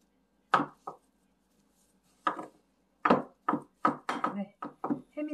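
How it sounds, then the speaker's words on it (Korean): A knife finely chops ingredients for flying fish roe rice on a cutting board, giving about a dozen close, crisp strikes, sparse at first and then in a quicker irregular run, with near silence between. "잘게 썰어서 준비할게요"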